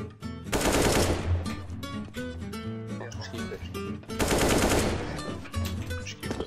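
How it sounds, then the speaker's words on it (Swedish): Rapid gunfire rattles loudly in a first-person shooter video game, with two dense bursts of automatic shots over game music and clattering effects, and no voices heard. "vilket skott han drog"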